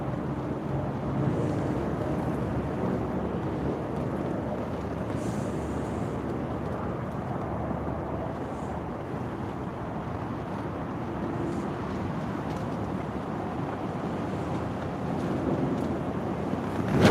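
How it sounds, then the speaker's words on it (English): Steady wind rushes and buffets a microphone out on open water during kayak carp feeder fishing. The roar is low, constant and close, with no talking. "There's some wind there."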